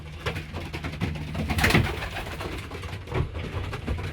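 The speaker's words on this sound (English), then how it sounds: "This pigeon's going everywhere." Blue bar pigeons coo in a loft, a close, continuous layer of low throaty calls with soft fluttering and shuffling movement.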